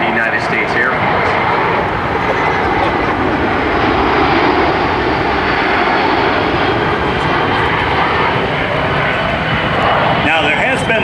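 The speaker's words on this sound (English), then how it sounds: "It's a whale of an airplane." A USAF C-17 military transport jet flies a demonstration at the Andrews AFB airshow in 2005, its engines producing a loud, sustained roar that fills the air while a voice talks over it.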